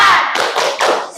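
Children clapping a rhythmic 'tepuk semangat' chant as a classroom ice-breaker: a short, loud run of three or four close claps in quick succession.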